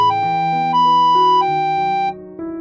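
A tonal siren alternates between two pitches in a steady wail, clear and fairly close, with no voices.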